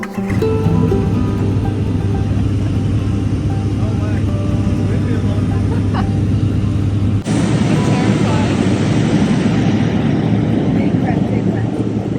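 Steady drone of a small plane in flight on a glacier sightseeing flight over New Zealand's South Island, a loud continuous engine hum throughout with a shift in tone partway, voices talking over it.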